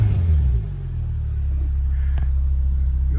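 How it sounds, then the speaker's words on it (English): A Porsche 991.2 Turbo S Coupe engine starts with a loud low rumble that briefly eases, then settles into a steady, deep idle close by. "I'm just going to start the engine."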